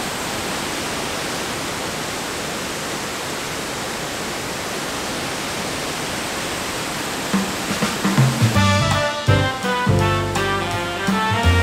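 Waterfall in Paterson, New Jersey roaring close by, a dense, constant rush of falling water filling the whole clip, with a brief burst of music cutting in near the end.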